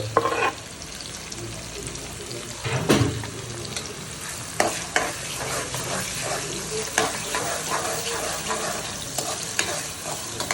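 Crab masala with tomato and tamarind sizzles steadily in a pan, with repeated scraping stirs and a few sharper clatters of the spoon against the pot, close and fairly loud.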